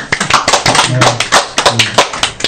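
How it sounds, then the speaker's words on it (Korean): A church congregation claps hands at a worship service, a quick burst of sharp, close claps in an uneven rhythm with a few voices underneath. "박수 한번 치십시오"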